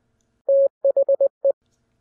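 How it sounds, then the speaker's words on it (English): Morse code tones: one long dash followed by four short dots and another dot, a clean steady beep pattern played alone in silence. "When you put those series of dots and dashes together, you're not just hearing, you're hearing the word the."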